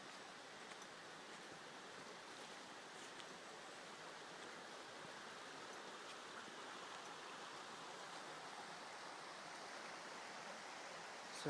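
Creek flowing steadily across from a small Appalachian Trail shelter, a constant broadband rush of water with no pauses, moderately quiet and even throughout.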